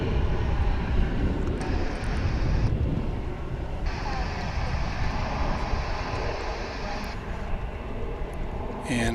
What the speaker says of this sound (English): it gets the clearance for takeoff as our Honolulu-bound flight is moving into position